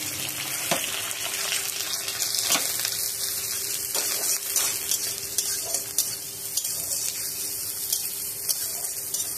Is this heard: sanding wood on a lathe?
no